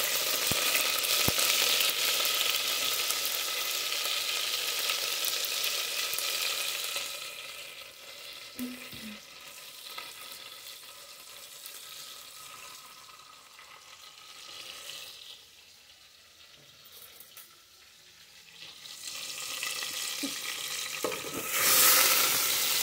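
Half a stick of butter sizzling in hot oil in a pan while making a four-cheese pasta sauce, a loud close hiss and crackle that eases to a quieter simmer midway, then swells again near the end.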